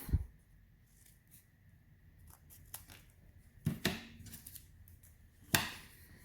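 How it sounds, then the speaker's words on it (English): Scissors snipping the tips off a folded paper snowflake, a few quiet, crisp cuts and rustles spread across a faint, near-silent background, with one sharper snip toward the end. "I'm going to cut those off."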